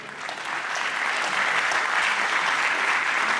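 A hall audience applauds warmly to welcome a speaker at a scientific talk, the clapping swelling slightly and then staying dense and steady throughout.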